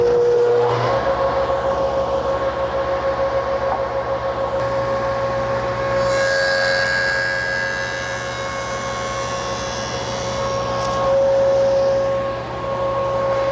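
A woodworking machine flattening the face of rough-cut lumber: a loud steady motor whine and drone that shifts into a higher cutting tone midway, then settles back, with no talking.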